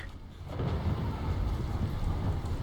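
Thunder in the video game Subnautica: Below Zero, a broad low rumble rolling on for a couple of seconds, loud and continuous, mixed with a rain-like hiss and no talk.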